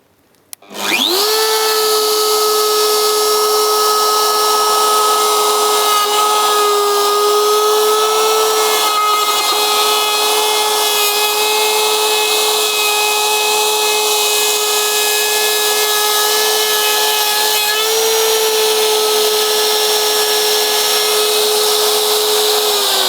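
A plunge power tool set to a 5 mm depth spins up and cuts along wood, a loud, steady high-pitched whine with a grinding edge that holds for over twenty seconds, close by.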